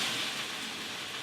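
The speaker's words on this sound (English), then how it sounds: "lift the frying pan and we're gonna flambe. That's the alcohol burning." Vodka flambéing in a frying pan, a loud, steady roaring whoosh of burning alcohol, close and unbroken, with no one talking.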